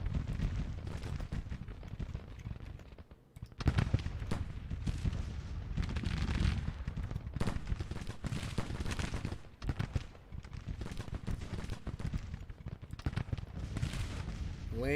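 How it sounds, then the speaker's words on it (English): Artillery fire rumbles through a Grand Tactician Civil War battle: continuous dense booms and crackling volleys, loud and sustained, with a brief lull near the start. "Lane taking artillery fire now."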